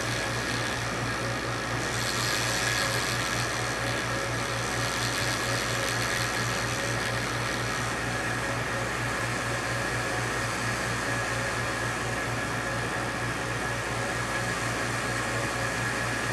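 A polishing machine runs slowly, working carbide custom calipers with 3 micron abrasive, producing a steady, loud whirring drone with a faint low hum and no breaks throughout.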